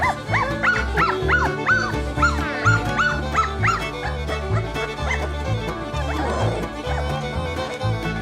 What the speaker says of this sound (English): Are you having fun with the puppies?